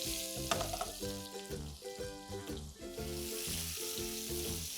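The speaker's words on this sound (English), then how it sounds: "Let's add in roughly cut onions." Roughly cut onions with salt sizzling in a hot pan with fennel for aloo do pyaza, a steady loud frying hiss with a few light stirring clinks, no voices.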